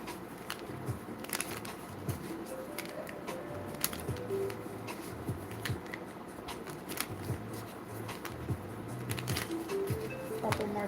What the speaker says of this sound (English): Couple more shuffles.